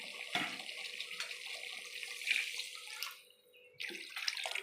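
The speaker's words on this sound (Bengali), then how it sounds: "এবার আমি জল দিয়ে দেবো।" Water is poured into a pan of chilli chicken as it cooks, making a steady, close splashing stream that briefly eases off before pouring resumes.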